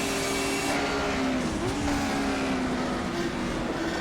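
A BMW 320 IMSA GTO in rFactor 2 at Sebring, the engine droning loud and close under throttle with a brief dip and recovery in pitch, a steady raspy roar throughout.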